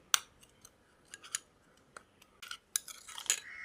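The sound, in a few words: stirring coffee powder, curd and honey together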